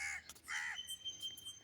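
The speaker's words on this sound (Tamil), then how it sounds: "போய் இங்கே ஒரு காக்கா இருந்தது" A crow caws several times in short harsh bursts near the start, then calls fainter and further off, with other bird chirps and a steady background hum.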